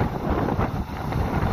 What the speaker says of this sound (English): Windy as well.